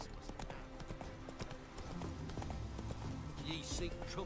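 Roach, Geralt's horse in The Witcher 3, trots with steady clip-clopping hooves that stay close and continuous over a background of game sounds and voices.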